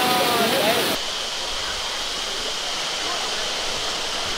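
Waterfall at the Harisankar Baisakh Mela, a steady broadband rush of water pouring down, loud and close throughout, with a brief burst of louder splashing at the start before settling into a continuous roar.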